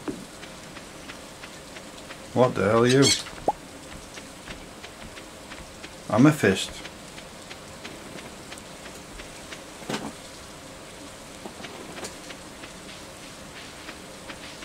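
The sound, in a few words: rain falling in Stardew Valley video game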